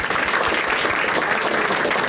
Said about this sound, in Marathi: एकदा टाळ्या वाजवा दोघांसाठी.